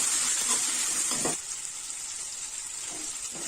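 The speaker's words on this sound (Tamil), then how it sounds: "இப்போ இது கூட தக்காளி சேர்த்திக்கோங்க புளியும் சேர்த்திக்கலாம் கொஞ்சம் நல்லா வதங்கட்டுங்க" Tomatoes and tamarind sautéing in a pan for kollu (horse gram) chutney give a continuous high sizzling hiss, with soft utensil scrapes near the start and end.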